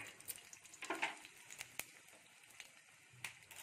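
Tempering seeds frying in hot oil for a gongura flower chutney, a close, crackling sizzle with sharp pops scattered over a soft hiss, no talking.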